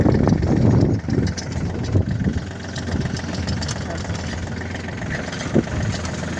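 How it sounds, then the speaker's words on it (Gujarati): A tractor stuck in a field runs with a rough, steady engine rumble close by, louder at the start and then holding constant, with people talking over it. "એક કેરેટમાં બેસી છે ટ્રેક્ટર ફસાઈ ગયું છે જતુનામાં."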